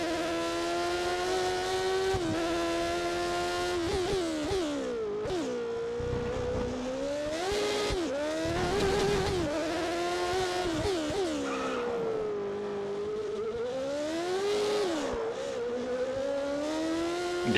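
A Williams Formula 1 car in a racing video game on the Hungarian Grand Prix circuit, its engine screaming loud and close, dropping a gear with a quick pitch dip and then climbing again under throttle, repeatedly through the corners.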